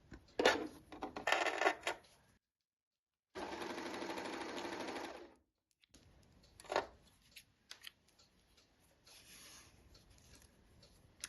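A self-threading serger stitches and trims a fabric edge, running in two bursts with a pause and a short gap between them, followed by lighter rustling and handling of the fabric. The machine sits close and moderately loud, with no talk.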